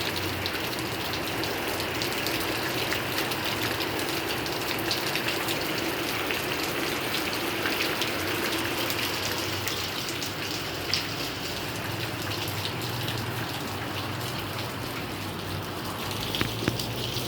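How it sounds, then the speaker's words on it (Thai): Steady rain falling and pattering on surfaces outdoors, a dense continuous hiss with occasional louder drips, even and fairly loud throughout with no talking. "ฝนตกแล้ว"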